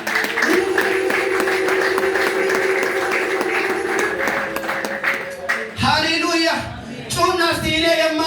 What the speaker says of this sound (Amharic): እስቲ አጨብጭቡ እስቲ እንደገና